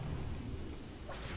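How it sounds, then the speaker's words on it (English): An electric storm effect in a video game rumbles as a continuous thunder roll with rain-like hiss, fairly quiet and steady throughout, a brighter crackle bursting in near the end, with no talking. "Electric storm."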